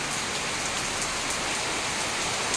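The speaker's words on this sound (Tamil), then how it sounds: "பாருங்க மழையை பாருங்க" Steady rain falls on outdoor surfaces, a dense, even hiss of countless drops that holds constant throughout, close and fairly loud with no voices.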